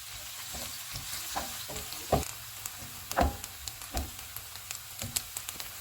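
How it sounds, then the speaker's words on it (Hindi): Onions sizzle and crackle quietly in hot oil in a pan with soft stirring scrapes and occasional pops, steady and close by. "ऑयल गर्म हो गया, इसमें प्याज डालेंगे। इनको 2 मिनट तक भूनेंगे।"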